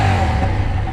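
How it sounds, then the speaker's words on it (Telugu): A BMW F850 GS parallel-twin motorcycle with an Akrapovic exhaust runs close by, a loud continuous low engine drone with a rough, clattery edge over one second. "మీకు ఇది అక్రాపోవిక్ ఎగ్జాస్ట్ సౌండ్ వినిపిస్తా అని చెప్పినా కదా"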